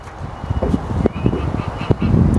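Geese in a wide park by a river on a very cold day give honking and quacking calls, close and fairly loud, in bursts over a busy outdoor background with some voices mixed in.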